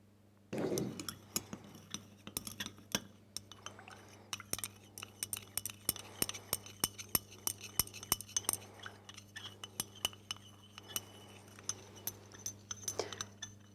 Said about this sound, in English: we just have to stir for about 2 or 3 minutes to make sure that we have a saturated solution